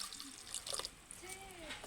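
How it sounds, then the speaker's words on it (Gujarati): Water pours into a cooking pot for flower dhokli, a village-style dish, as a short, faint splash and trickle lasting under two seconds. "પાણી નાખી દઈએ આપણે આમાં"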